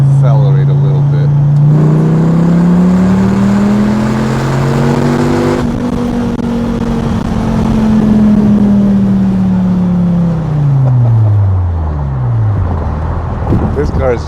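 A Dodge Viper SRT10 with a 500-horsepower engine accelerates from inside the car, its loud engine drone rising steadily in pitch then falling as it eases off, with someone talking over it.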